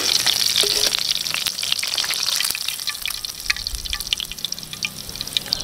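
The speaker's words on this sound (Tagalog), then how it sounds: "Chicken fry." Chicken pieces crackle and spit in hot frying oil for a crispy binagoongan dish, a steady dense sizzle with sharp pops scattered throughout, close and loud with no talking.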